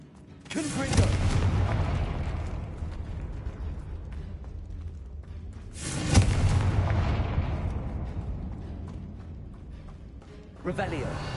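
Confringo fire spell blasts in Hogwarts Legacy: two heavy booming explosions several seconds apart, each a sharp loud hit that rumbles and fades slowly, followed by the start of a third at the end.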